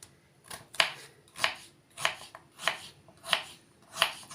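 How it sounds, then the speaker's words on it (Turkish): Knife chopping vegetables into cubes on a cutting board in steady, evenly spaced strokes, about one per second, close and fairly quiet with no talking. "Hepsini böyle küp küp doğradık arkadaşlar."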